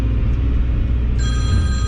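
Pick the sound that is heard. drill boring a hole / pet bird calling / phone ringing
phone ringing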